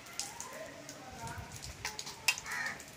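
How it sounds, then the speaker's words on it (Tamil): Rain falling in a garden by a lemon tree, a soft diffuse patter of drops with faint scattered taps, low in level, with some quiet human sounds in the background. "நல்லா மழை பெஞ்சிட்ருக்கு"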